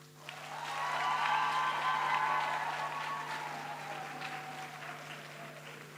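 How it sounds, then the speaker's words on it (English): Graduates at a university graduation ceremony applauding their supporters: a broad, steady wash of hall-wide clapping that builds within the first second and holds, with a steady low hum underneath. "will you give these people who supported you a round of applause?"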